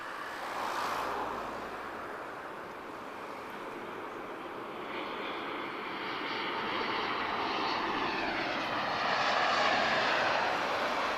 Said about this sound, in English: We've got a Max inbound from Buzz, and it's the Buzz livery as well.